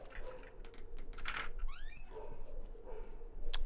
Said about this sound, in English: I can hear my dogs having aneurysms downstairs.